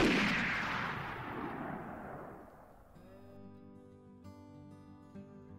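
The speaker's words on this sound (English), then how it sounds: "Once you have your target in front of you, take a breath, aim your gun," A single loud gunshot fired while hunting prey in a video game, a sharp report at the start that booms and rolls away over several seconds, followed by quiet tonal game music.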